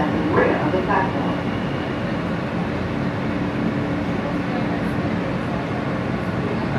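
New York City subway F local train heading toward Coney Island, a steady loud rolling rumble with brief screeching tones early on, no talk over it.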